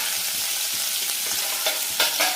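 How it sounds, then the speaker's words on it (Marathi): Two medium-sized chopped onions fry in hot oil in a kadhai, a continuous bright sizzle with faint stirring scrapes and a few louder crackling bursts near the end. "तेल छान गरम झालं की परत मीडियम साईजचे 2 कांदे कापून घेतलेले आहेत"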